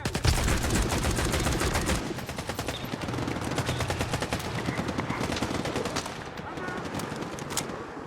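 Rapid automatic gunfire in Stalker 2 hammers away loud and close in one sustained burst. It continues as steady, crackling shots while the game sound carries on beneath.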